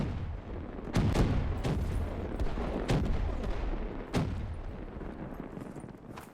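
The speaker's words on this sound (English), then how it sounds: "I hear gunfire" Gunfire in Call of Duty: Black Ops 3, a steady busy wash of shots and bursts with several louder, sharper reports standing out every second or so, dense and continuous throughout.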